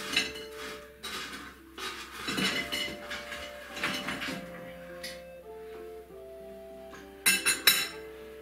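Fries and currywurst being served onto a plate, with a run of clinks, taps and scrapes of utensils against crockery, some sharp and bright and some dull, spaced irregularly with brief quiet pauses between.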